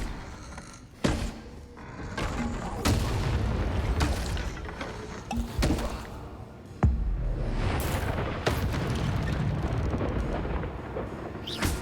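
Bombarda spell explosions in the video game Hogwarts Legacy: a string of heavy, loud booms at irregular intervals, each followed by a rolling rumble.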